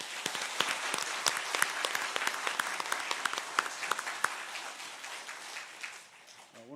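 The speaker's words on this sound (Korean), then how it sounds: "오늘 은퇴하고 임직하시는 분들께 다시 한번 큰 박수 부탁드리겠습니다" Large church congregation applauding retiring and newly ordained officers at a Korean ordination ceremony, dense sustained clapping with sharp individual claps standing out, tapering off near the end.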